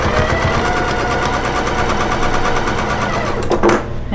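A sewing machine with a 1/4 inch foot runs steadily, joining pinned quilt block pieces into a four-patch. The rapid, even needle chatter continues close and loud, then a brief clunk arrives near the end.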